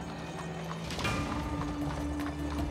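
A horse pulling a buggy clip-clops steadily at a walking pace, hooves clear over a background of low rumbling ambience.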